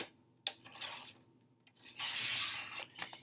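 Cardstock being trimmed on a paper trimmer for card making, heard as two separate rasping slides of the blade, a short one and then a longer, louder pass, with a few small clicks between them and no voices.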